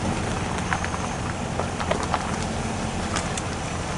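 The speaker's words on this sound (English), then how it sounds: "it is raining and the windshield is getting quite a bit of rain on it" Rain falling on a car windshield during a drive around Fishpond Lake, a steady patter with scattered sharper drop ticks over a low road rumble, continuous and moderately quiet.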